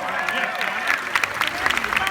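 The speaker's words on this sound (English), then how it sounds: "Give yourselves a round of applause." A convention audience claps and cheers together in a hall, a lively, dense burst of many hands with voices shouting and chattering over the applause.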